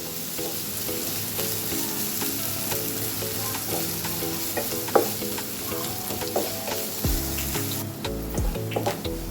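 Sliced onions sizzle and fry in a pan for a cabbage curry, with a steady crackle and repeated scraping stirs throughout, close and without talk.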